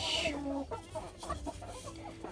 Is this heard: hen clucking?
yes